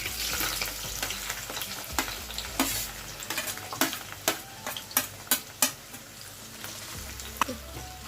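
Onions hiss and sizzle as they fry in hot oil for Hyderabadi haryali chicken, a steady close crackle broken by a run of sharp clicks and scrapes from stirring.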